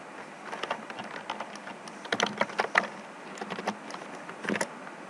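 Typing on a computer keyboard during a programming session, a quick, uneven run of close key clicks, busiest in a dense burst midway, with no talking.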